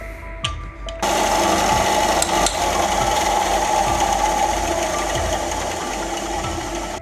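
A Parkside PBS 350 B2 bandsaw starts up and runs with a loud, steady mechanical whir. Under the running noise there is a rattling, ratcheting clatter from inside the machine, close and continuous, with no talking.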